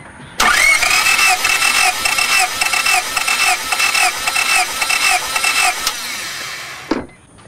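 An engine is cranked over on its starter during a compression test: a loud, close whirring with an even pulsing rhythm for about five and a half seconds, then it stops abruptly.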